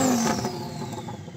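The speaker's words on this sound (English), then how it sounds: "so I'm going to rev up this Lambo" Lamborghini with a roughly 1200 hp engine revving hard, a loud close burst of rising engine roar that sweeps up then holds a sustained, slightly falling drone, with turbo whine above, no talk.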